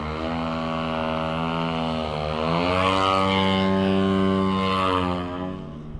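A giant-scale gas-powered RC airplane hovers near the ground, its propeller engine giving a loud, steady buzzing drone whose pitch climbs and falls as the throttle shifts, close by and without talk.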